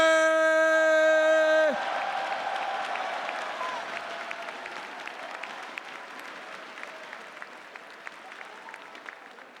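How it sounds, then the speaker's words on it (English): An audience at the EVO 2017 Street Fighter V awards ceremony applauds steadily after a held electronic tone cuts off. The clapping is moderately distant and crowd-wide, with a few louder individual claps. "In 5th place, please cheer for Monkey!"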